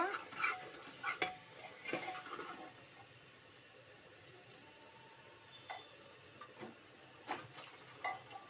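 Chicken sizzles in a hot pan with scraping stirring sounds and a few clatters, busier at first, then a quieter sizzle with occasional knocks.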